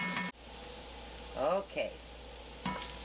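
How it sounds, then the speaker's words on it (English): Chopped vegetables for potato soup sauté in a pot, a soft steady sizzle running throughout, with brief bits of talk and a clatter of stirring breaking in. "veggies been sauteing here for about 6 minutes"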